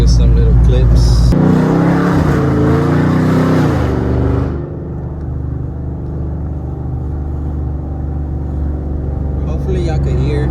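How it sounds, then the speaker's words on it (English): A Dodge Charger R/T with an aftermarket exhaust setup rumbles from inside the car while driving, a loud throaty burst early on settling into a steady low drone as it cruises. "clips for y'all could hear how this exhaust setup sound like"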